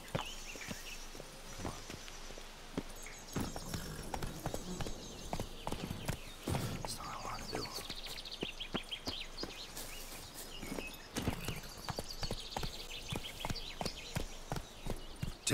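Hooves of the horse Roach in The Witcher 3 clip-clop in a steady walking rhythm, quiet and close, with faint ambient game sounds and no talking.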